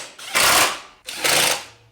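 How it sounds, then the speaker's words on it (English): Screws being driven into a classic Briggs and Stratton four-stroke lawn mower engine, heard as two close, loud whirring runs of a power driver, each lasting about half a second. "And get those screws in."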